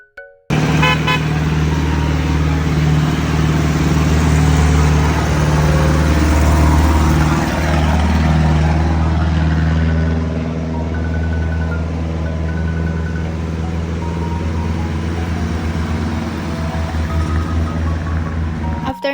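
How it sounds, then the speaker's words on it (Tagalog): Passenger jeepneys labor up a steep mountain road in Dolores, Quezon, their loud engines droning close by in a continuous low roar, with a horn tooting briefly amid the grinding climb. "pakinggan nyo naman yung tunog ng jeep habang paakyat"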